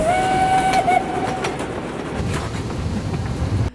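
Train running, with a short whistle or horn tone at the start over a steady low rumble and rattling rail clatter that fills the whole stretch at a fairly loud, close level.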